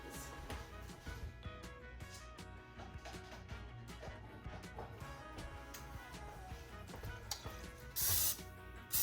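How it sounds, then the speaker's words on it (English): Cooking spray hisses from a can in a short burst near the end, rising briefly over steady background music between batches of keto chaffle sandwiches. "let me grab a little bit of cooking spray before I lay the next batch on"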